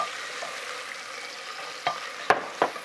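Garlic and onions sizzle in vegetable oil in a hot pan, a steady soft frying hiss with a few sharper crackles and stirring clicks near the end.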